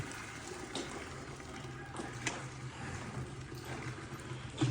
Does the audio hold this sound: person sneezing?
no